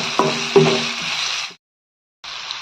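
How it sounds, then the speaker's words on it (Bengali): Chopped onion and garlic frying in oil in a pan for a Bangladeshi taro stem dish, a steady close sizzle with a few stirring knocks, cutting out briefly before resuming. "এখন তেলের মধ্যে পেঁয়াজ এবং রসুন কুচিটাকে আমি কিছুক্ষণ ভেজে নেব"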